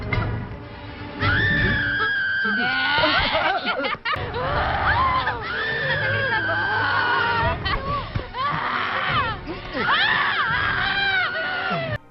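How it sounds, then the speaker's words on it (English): A generic stock sound effect of a woman screaming, cut into a low-budget Bollywood Evil Dead knockoff film, loud shrill wails repeating over the soundtrack with laughter-like cries and chatter mixed in. "they keep cutting in this generic sound effect of a woman screaming"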